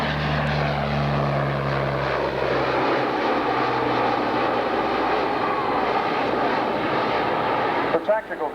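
Lockheed Orion propeller aircraft flying at the 1995 London International Airshow, its loud droning turboprop engines passing close with a shifting pitch, under a narrator's voice, before a brief burst of handling noise at the end.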